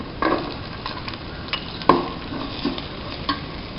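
A squid roast with fried coconut pieces is stirred in a hot pan, with a quiet sizzle under irregular scraping strokes of a spoon, one sharper clack near the middle, close and moderately loud.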